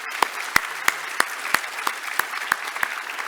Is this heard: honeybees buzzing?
no